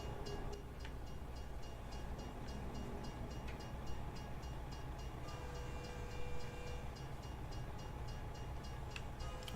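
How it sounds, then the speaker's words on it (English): Train passing in American Truck Simulator, a faint continuous rumble with repeating rail clicks, distant and steady, with no talk over it. "Yo, is that a train?"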